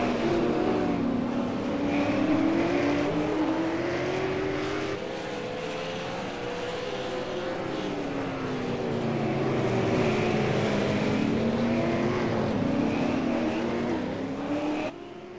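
Race car engines at Okayama International Circuit in the iRacing simulator, several cars wailing loudly with rising and falling pitch as they accelerate, shift and pass, continuous with no voices.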